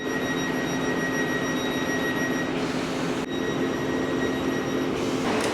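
Steady rumble and rolling hum of a nearly empty passenger train running on the Marston Vale line, continuous and loud throughout, with a brief shift in tone partway as the carriage rattles along.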